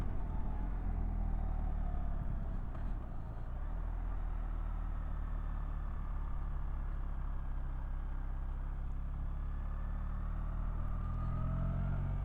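A BMW R1300 GS motorcycle engine rumbles steadily while the bike rounds a roundabout, a continuous low, close drone with traffic noise throughout and a slight dip midway, no talking.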